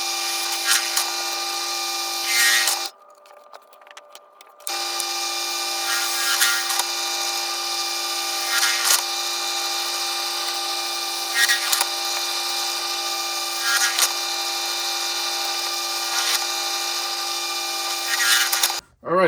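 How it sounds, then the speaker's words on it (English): A drill press cuts acrylic for a guitar pickguard, a steady loud motor whine with grinding and rubbing bursts as the bit works the plastic, briefly cutting out near the start before resuming. "this is what a piece of acrylic looks like when you cut it with a drill press"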